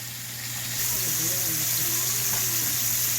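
Fish sizzles and crackles steadily in hot oil, the frying growing louder after a moment, with a faint voice murmuring underneath.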